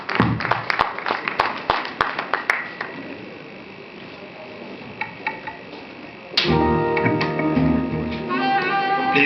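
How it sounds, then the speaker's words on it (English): At a conference, scattered claps ring out as a speaker heads to his seat, sharp separate hand claps at first that thin out, then a louder burst of clapping joined by music near the end. "Please, can we clap some more for him as he goes to take his seat?"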